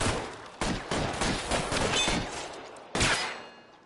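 Several sharp, loud gunshots crack out one after another in the L.A. Noire video game, irregularly spaced over a few seconds with echoing tails, the last shot fading into quiet.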